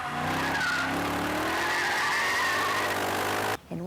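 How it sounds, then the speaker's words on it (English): Howl of a V8-engined car, a sustained rising engine note with harmonic whine and tire squeal, loud and close, holding for over three seconds before cutting off abruptly near the end. "it's the howl of a V8 engine"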